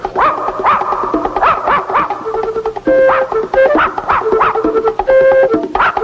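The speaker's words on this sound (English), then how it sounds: "Grab that dog." Cartoon dog barking in a repeated series of sharp yaps over a busy music score, loud and close, with short melodic tones woven between the barks.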